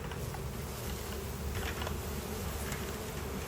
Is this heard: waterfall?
no